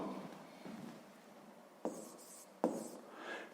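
A pen moves across paper while solving a sixth-grade math exercise, soft scratchy strokes with a couple of sharp taps, quiet and close.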